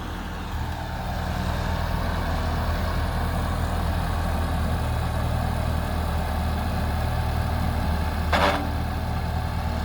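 A tractor engine runs steadily at a low, throbbing idle close by, a continuous loud rumble with one brief sharp click or squeak near the end and no talking.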